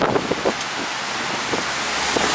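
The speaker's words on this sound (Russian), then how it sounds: "холодно и очень сильный ветер" Steady broadband wind noise roars outdoors on a cold winter day in Sevastopol, buffeting the microphone with a few low gusts; no voices.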